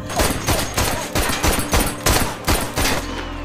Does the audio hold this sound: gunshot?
yes